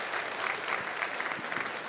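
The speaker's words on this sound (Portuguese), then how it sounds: "Vamos aplaudir o Senhor mais uma vez" A church congregation claps together, a dense and sustained round of applause heard at moderate distance, steady throughout with no voices rising above it.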